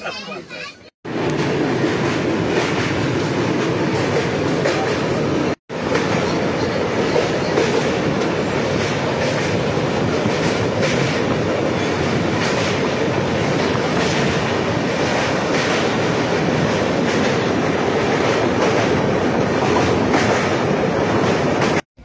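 Train travelling on the SMVT Bengaluru to Kamakhya Express: a loud, steady rolling rumble with rhythmic clatter of wheels on rail, heard from inside the coach, briefly cutting out twice, with faint voices mixed in.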